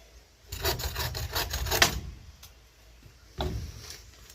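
A wooden stick for a slingshot sawn by hand, giving a close, quiet run of quick rasping strokes, then a pause and a few more strokes.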